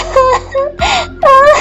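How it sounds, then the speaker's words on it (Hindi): A woman wails and sobs at night in short, loud, drawn-out moaning bursts with brief pauses, close and alone. "अरे, रात हो गई और ये रोने की आवाज किसकी है?"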